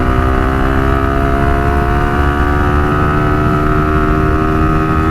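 A Suzuki Gixxer motorcycle fitted with a racing CDI on an open road, its engine droning loud and steady at high revs, the pitch climbing slowly through a gear.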